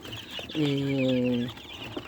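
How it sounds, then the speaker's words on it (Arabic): Free-range native baladi chickens give a single sustained, loud clucking call lasting about a second, with quieter yard noise before and after. "انا جايبه الفراخ البلدي دي، انا بحبها قوي قوي قوي"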